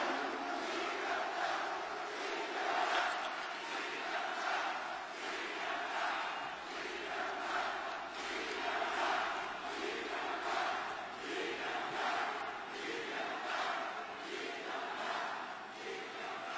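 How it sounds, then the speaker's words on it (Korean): A large crowd at a presidential election campaign rally in Busan claps and cheers in sustained waves, dense and continuous roar of applause and shouting. "뜨거운 박수로 맞이해 주시기 바랍니다."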